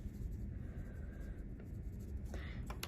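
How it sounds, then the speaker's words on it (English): A gray colored pencil lightly shades on paper, a soft, close, continuous scratchy rubbing over a low background hum. "you're gonna lightly color his body"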